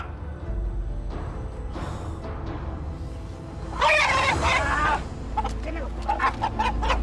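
Roosters clucking and squawking in bursts at a cockfight, with a loud flurry of agitated crowing midway, amid background voices and commotion.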